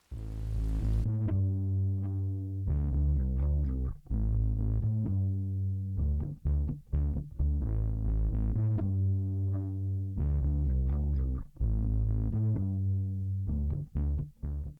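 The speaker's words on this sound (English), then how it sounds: "the bass sounds like this" A dry synth bass line with no Thickify processing plays alone, sustained low notes in a steady phrased pattern with short gaps, loud and close throughout.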